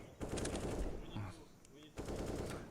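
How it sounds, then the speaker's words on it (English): Auto sniper rifle fire in the video game CS:GO, rapid bursts of close gunfire in two stretches with a short lull between, mixed with game noise and faint background voices. "Robs has an auto sniper."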